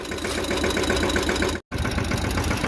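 A Mahindra Yuvraj 215 tractor's diesel engine runs loudly and steadily nearby, with a rhythmic chugging knock, briefly cut by a split-second dropout before resuming.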